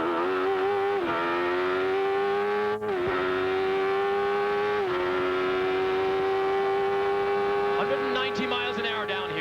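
An onboard race car engine screams steadily at high revs, with brief dips as it shifts up through the gears of a six-speed gearbox, a strong droning whine throughout.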